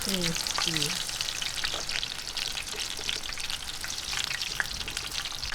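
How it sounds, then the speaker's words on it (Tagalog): Baby shrimp okoy fritters sizzle steadily in hot oil, a dense continuous crackle with a few soft utensil scrapes near the start, close and alone without talk. "tapusin lang po natin ang pagpiprito"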